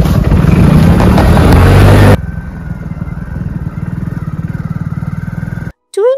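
A motorcycle rides along a forest track in Panna Tiger Reserve. A loud, rough engine roar gives way to a steady, pulsing motor rumble close by, then cuts off abruptly near the end.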